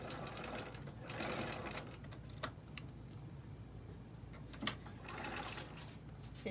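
A home sewing machine stitches over a fabric pleat in quick, quiet bursts of rapid mechanical chatter, separated by short pauses and a few sharp clicks.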